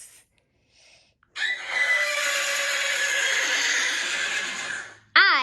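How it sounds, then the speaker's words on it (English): A horse gives one long, loud, high whinny that wavers and quavers for several seconds, standing alone after a brief quiet start and followed by a short, abrupt burst at the very end. "H is for horse."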